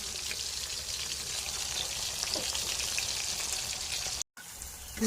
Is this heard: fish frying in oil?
yes